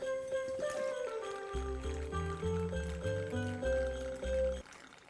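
Cuban spiced rum glugs from a bottle into eggnog, a close, bubbling pour whose gurgle rises in pitch as the vessel fills, with no talking over it.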